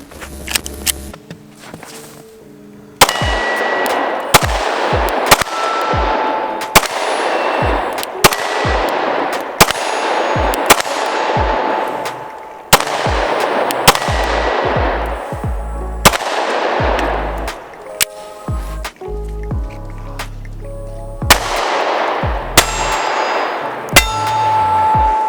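A Glock 43X pistol fires a steady string of sharp, loud shots outdoors in snow, each crack spaced roughly a second apart with ringing metallic clangs from steel targets over about twenty-five seconds.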